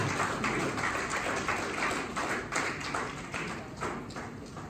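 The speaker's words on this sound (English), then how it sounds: "Dr. Joyce, give her a round of applause." A conference audience in Nairobi, Kenya claps for a speaker being welcomed to the podium, a dense, sustained patter of many hands that rises and falls slightly, heard from within the hall.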